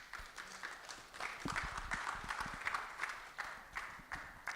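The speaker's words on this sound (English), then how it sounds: "Please, a round of applause." A conference audience at a digital trust event gives a round of applause. It sounds as fairly quiet, dense clapping from many hands at a middle distance, fairly steady across the few seconds.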